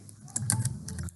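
A computer keyboard is tapped in a quick burst of about a dozen close, crisp keystrokes while a promo code is typed in, with faint room tone between presses.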